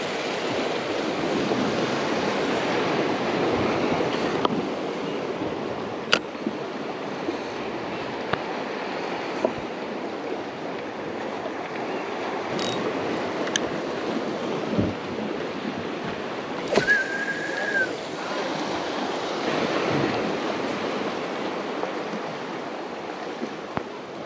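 Ocean swells and surf on the Sonoma Coast roll in as a steady broad wash, with wind buffeting the microphone and a few faint knocks and clicks nearby.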